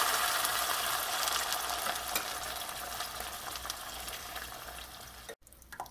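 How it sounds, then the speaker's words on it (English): Garlic sizzles and fries steadily in a pan on the stove, a continuous close crackling hiss that cuts off abruptly near the end. "I like that frying."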